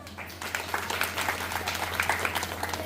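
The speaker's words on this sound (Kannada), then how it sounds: "ನಾವೆಲ್ಲರೂ ನಮಗಾಗಿ ಪ್ರೋತ್ಸಾಹದ ಚಪ್ಪಾಳೆ ತಟ್ಟೋಣ" A hall of women at a mahila mandal's twentieth anniversary celebration claps together, a steady dense patter of applause under a low constant hum, with no speech.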